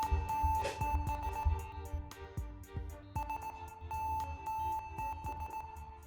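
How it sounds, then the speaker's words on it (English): Steady electronic beeps repeat in a rhythmic pattern like Morse code spelling SOS, running through a video game song from Pesterquest over low pulsing music, with brief thumps between. "There's Morse code in this fucking song."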